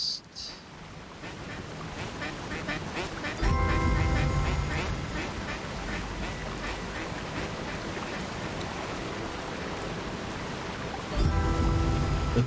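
Ducks quack in the video game The Unpetrified Game. Repeated quacks come over a soft, watery nature ambience, with the background swelling louder at moments.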